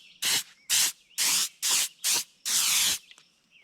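Spray gun laying a heavy final coat of two-part automotive gloss onto a northern pike fish replica, six close hissing bursts in quick succession, the last one longest.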